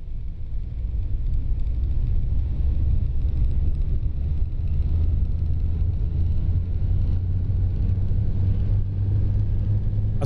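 A steady low rumble of a video-game Munich Type M tram's engine and rolling motion, continuous and fairly loud throughout with no voices.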